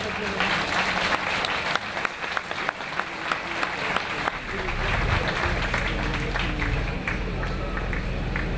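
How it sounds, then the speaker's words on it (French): An outdoor audience applauds the Breton flag at a tractor presentation, sustained crowd clapping with a deep rumbling engine joining midway, while a voice speaks over it. "On va encore applaudir le drapeau breton."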